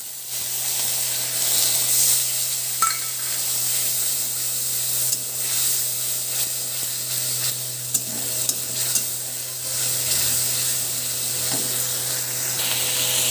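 Onions sizzle steadily as they fry golden brown in a pan, with scraping stirs and small clinks breaking through a continuous close hiss.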